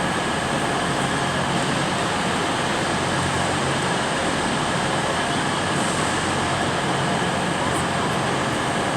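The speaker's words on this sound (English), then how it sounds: "that's a Heathrow Express train there" A Heathrow Express train at London Paddington station gives off a steady, loud rumble and hiss under the train shed, with no clear breaks and no clear voices.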